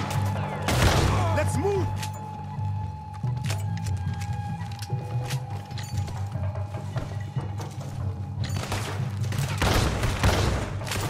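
Sporadic gunshots in Red Dead Redemption 2, a couple of sharp cracks near the start and end over a steady rumbling game background, with a voice speaking briefly.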